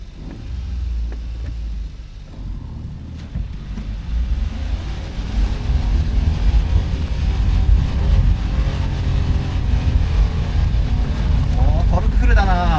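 A Suzuki Super Carry kei truck climbing an off-road slope in second gear low range, engine droning steadily and rising in load as it climbs, with wind buffeting the microphone and a voice talking over it.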